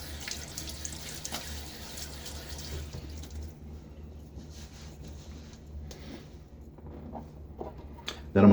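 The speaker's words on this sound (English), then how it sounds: "let's throw some water on my face." Water from a tub tap runs and splashes as it is thrown onto a face during a wet shave, a steady close hiss that thins out, then a brief louder splash at the end.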